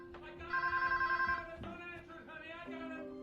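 A telephone rings in an animated film scene from The Incredibles, a steady bright electronic trill lasting about a second, layered under music and background sound.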